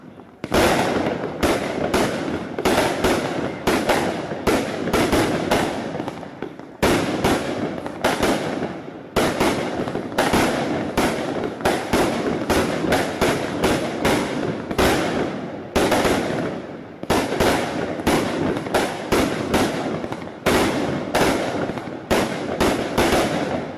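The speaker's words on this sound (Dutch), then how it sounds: "En kijk even mensen, dit is echt een mooie vuurwerkcake. Maar vooral op het laatste. Heavy Legend, 25 shots." Consumer fireworks cake called Heavy Legend firing 25 shots, a rapid run of loud, sharp bangs in dense bursts with brief pauses between volleys, close and filling the whole stretch without talk.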